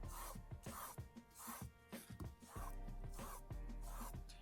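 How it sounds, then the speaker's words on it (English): A paintbrush sweeps quickly over canvas, smoothing out acrylic paint strokes in a soft, faint, rhythmic series of brushing rubs close by. "now I'm just smoothing out all of my brush strokes just very quickly"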